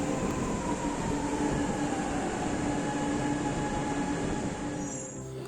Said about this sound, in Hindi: एयरपोर्ट से सिटी सेंटर तक हम मेट्रो ट्रेन से गए।